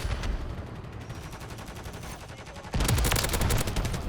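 In Modern Warfare 3, an SVA 545 rifle fires rapid, evenly spaced automatic bursts. A quieter stretch of shots is followed by a sudden louder, denser burst near the end, with no talking.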